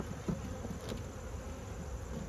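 Honey bees buzz around an open hive during inspection, a continuous low droning hum of many insects with occasional closer passes, at moderate level.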